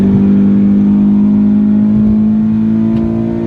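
A 2016 Scion FR-S sports car engine revs loudly and steadily, a strong sustained drone held close up with no voices.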